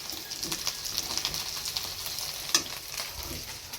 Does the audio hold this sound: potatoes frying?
yes